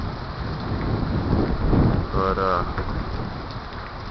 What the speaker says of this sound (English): winds picked up. It's raining a lot right now.